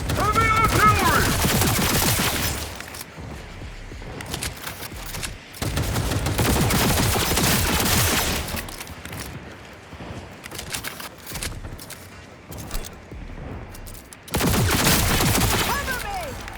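Dense gunfire from the video game Cyberpunk 2077 Phantom Liberty comes in long bursts of rapid automatic fire broken by short lulls. A voice speaks between and under the shots.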